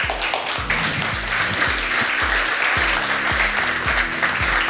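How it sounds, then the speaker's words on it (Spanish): Audience applause after an inspirational speech on education by Francisco Ackermann, a dense sustained wash of clapping with a steady rhythmic thump underneath, fairly loud and continuous throughout. "Y es más fuerte el aplauso"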